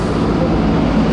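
A vehicle passes on a rocky mountain road, a steady, fairly loud broadband engine and road rumble that holds throughout without a clear rise or fall.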